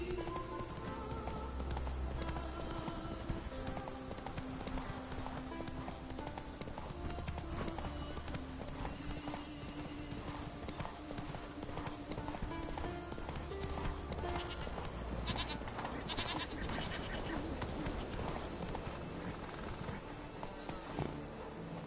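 Geralt's horse Roach gallops in The Witcher 3, a steady rapid clip-clop of hooves running continuously under a busy game soundscape with music.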